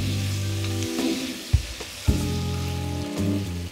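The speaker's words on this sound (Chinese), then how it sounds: "继续煸炒到锅里汤汁收干" Food stir-fried in a wok with cooking wine, soy sauce and sugar crackles in a steady sizzle, broken by a couple of sharp clacks as the spatula scrapes and stirs, with a faint hum underneath.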